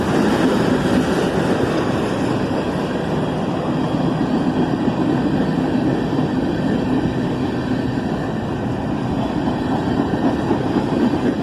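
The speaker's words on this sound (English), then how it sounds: "The 3 big GE locomotives are getting this train moving in no time at all." Three big GE locomotives haul a CSX freight train carrying reefer cars in Georgia, a steady, loud rumble of engines and rolling cars that holds unbroken throughout at close range.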